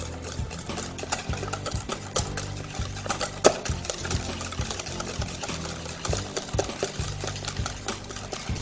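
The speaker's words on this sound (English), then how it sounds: "I'm going to mix those together." Ingredients for carrot cake bars, sweetened with half a cup of Splenda, are mixed with steady rhythmic whirring and clattering. A mechanical hum runs underneath, with one brief sharp knock partway through.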